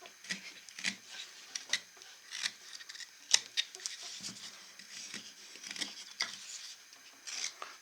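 A knife carves a small wooden bear figure, giving repeated short scraping and shaving strokes in an irregular rhythm, close and soft.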